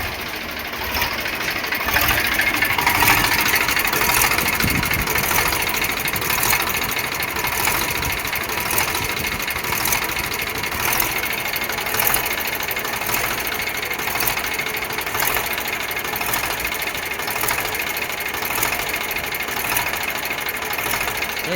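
Eicher 548 tractor engine idling steadily, a continuous mid-pitched chug with a faint knocking rhythm holding at even loudness throughout, close by with no talk.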